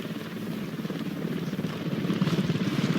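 Helicopter flying in the video game Ghost Recon Wildlands, a steady rotor thump and engine drone that holds loud and close throughout and swells a little toward the end, with no talk over it.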